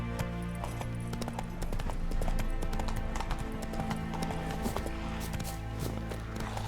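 The horse Roach gallops in a Witcher 3 game scene, hooves clip-clopping in a fast, steady rhythm close by, with occasional snorts over a faint ambient background.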